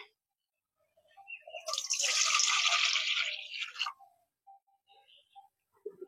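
Running water from a tap as bottle gourd leaves are washed, a steady splashing flow lasting about two seconds, close and fairly loud, followed by faint drips and small kitchen sounds.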